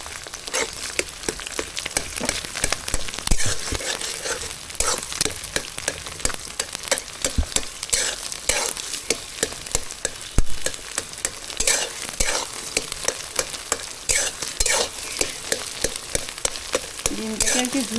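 Egg frying and being scrambled into crumbly bits in a pan with a little oil, a loud continuous sizzle broken by rapid scraping and stirring strokes of a spatula, close and with no talking.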